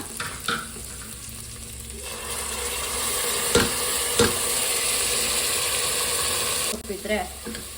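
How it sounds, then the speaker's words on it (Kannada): Ginger garlic paste fries in a pan with a steady, loud sizzle, broken by a couple of sharp spatula knocks and stirring scrapes, the sizzle swelling midway and then cutting off near the end. "ಇವಾಗ ಜಿಂಜರ್ ಗಾರ್ಲಿಕ್ ಪೇಸ್ಟ್ ಚೆನ್ನಾಗಿ ಫ್ರೈ ಆಗಿದೆ"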